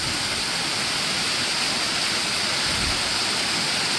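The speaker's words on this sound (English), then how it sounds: "another bit of waterfall here" A waterfall on a steep hiking trail in Labrador roars as a continuous, dense broadband rush of falling water, steady and fairly loud with no talk over it.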